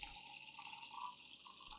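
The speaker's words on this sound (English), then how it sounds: "we will add 500 milliliters of hot water to extract the soluble compounds" Hot water, 500 millilitres, is poured into a container in a kitchen, giving a soft, steady trickling hiss that lasts throughout at low volume with no voices.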